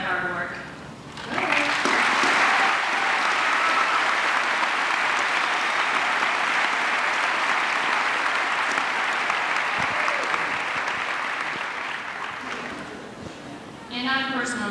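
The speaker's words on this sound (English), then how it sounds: "If the council could stand, we could all give them applause for their hard work." An audience at a 1988 summer commencement ceremony in Daytona Beach claps for the senior class council, a sustained, full round of applause lasting over ten seconds before fading as a voice resumes.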